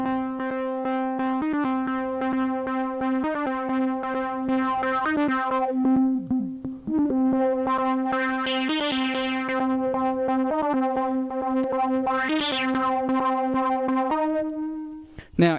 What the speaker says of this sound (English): we're going to use the peak and the cutoff knobs to give it some movement